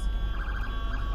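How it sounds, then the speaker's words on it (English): Emergency vehicle siren outside a building, a steady wavering tone heard from a distance through walls, continuous and fairly faint over a low rumble. "of course, the sirens."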